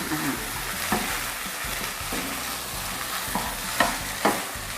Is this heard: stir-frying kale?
yes